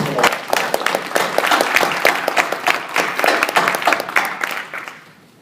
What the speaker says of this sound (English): I just want to give one more round of applause for everybody